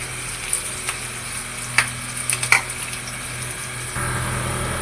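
Chopped onions, green chillies and curry leaves frying in a pan for chole, a moderate hissing sizzle with scattered clinks and taps from a utensil over a low steady hum.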